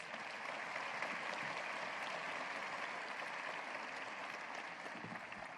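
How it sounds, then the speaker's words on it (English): A university audience at a State of the University address breaks into a hearty round of applause, steady, even clapping from a sizeable crowd that continues at an even level throughout. "Let's give you a hearty round of applause."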